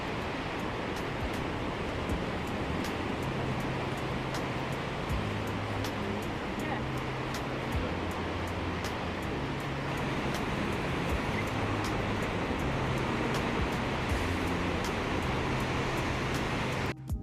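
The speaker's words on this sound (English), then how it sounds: "when water foams and when it just disappears within the crevices of the rocks" Sea water surging and foaming over coastal rocks and draining into crevices along the Great Ocean Road near Melbourne, a steady, loud broadband wash of surf that continues throughout with little letup.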